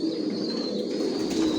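Janssen-line racing pigeons in a loft, a brief steady chorus of soft, low cooing from several nearby birds, with no voices.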